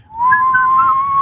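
A person whistles one sustained clear tone that rises slightly, close and loud, lasting about a second.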